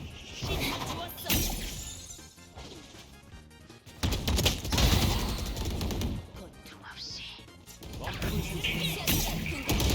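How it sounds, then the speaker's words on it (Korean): Gunfire from a video game weapon fitted with the Singularity 2.0 skin, loud sharp bursts and crashing shots repeating in clusters across the clip, with no voice over them. "총 쏘는 소리"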